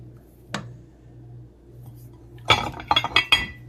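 Metal utensils clink against a pot and dishes while red beans and rice are dished up: one sharp clink, then a quiet pause, then a quick cluster of bright scrapes and taps close by.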